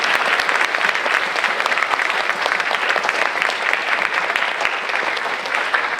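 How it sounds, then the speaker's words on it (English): A school audience applauds a symphony orchestra at an evening band and orchestra information night, with dense, steady clapping filling the room for about six seconds without letting up. "Let's give another round of applause for our awesome symphony orchestra."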